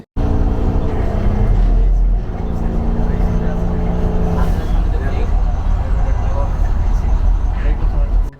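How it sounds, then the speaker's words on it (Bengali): Interior of a moving Mercedes-Benz sleeper bus, a loud continuous low engine and road rumble with steady droning tones that shift slightly midway, heard up close throughout. "বাস চলাকালীন মুহূর্তে যে পরিমাণ নয়েজ হবে সেটি আসলে আপনাদের সামনে তুলে ধরার চেষ্টা করেছি"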